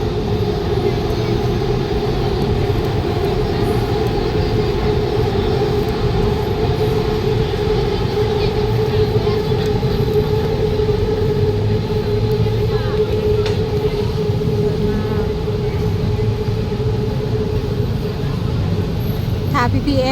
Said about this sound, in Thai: จะเห็น รถไฟลอยฟ้านะคะ วิ่งสวนกันแบบหลายๆคันเลย